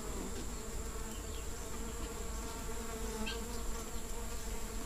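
Uruçu boca de renda stingless bees buzz continuously at an open hive box, a dense, steady drone that stays close and even throughout.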